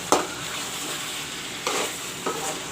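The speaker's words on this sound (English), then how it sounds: "the mutton is being browned with the masalas" Mutton browns with masalas in a hot pan, a steady close sizzle with a few brief stirring scrapes and no talk.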